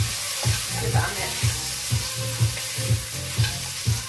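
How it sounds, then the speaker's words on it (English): A herby chicken stew sizzles in a pan as it is stirred, steady frying hiss broken by a regular beat of scraping strokes roughly every half second, close and moderately loud. "give that a mix."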